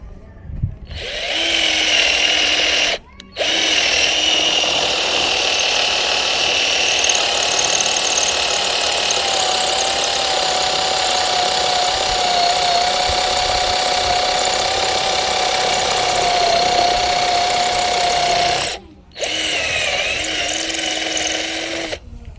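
A cordless drill runs continuously into concrete for about twenty seconds, a loud steady whine with grinding texture, pausing briefly twice as the trigger is released and pressed again; no voices.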